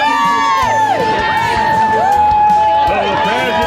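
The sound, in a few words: London Marathon crowd cheering runners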